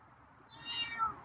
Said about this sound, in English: It's a better meow